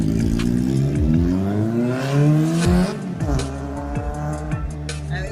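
A Kawasaki ZX-4RR sports motorcycle engine revs hard up close, its pitch climbing and dropping in repeated loud throttle blips.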